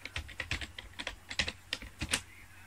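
Rapid, uneven clicks of keys on a computer keyboard while entering an Excel formula, close and fairly quiet, with short bursts and brief pauses between keystrokes and no voices.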